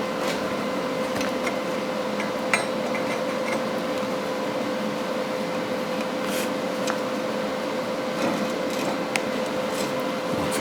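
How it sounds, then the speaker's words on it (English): Arc welding on cast steel with a hot setting, giving a steady crackling buzz with a constant tone and scattered sharp pops, close and continuous with no talk. "Going in pretty hot because I want that to weld in good."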